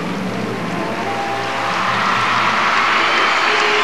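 Gymnastics arena crowd at the 1994 World Championships applauding and cheering a floor routine, a loud, continuous wash of clapping and cheers that swells slightly toward the end.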